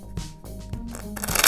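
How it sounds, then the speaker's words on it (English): A deck of playing cards shuffled by hand during a card trick, a quick riffling flutter building in short bursts over a low steady background, with no talking. "ask the spectator to shuffle the deck of cards"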